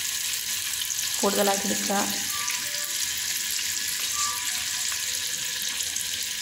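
Chicken pieces frying in a pan for kuzhi mandi give off a steady, close sizzle throughout, and a voice talks over the frying.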